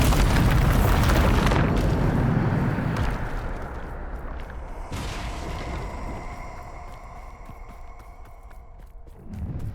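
A Bombarda spell explosion in the Hogwarts Legacy video game: a loud booming blast that rumbles and fades over several seconds into lingering magical tonal hums, then a second burst near the end.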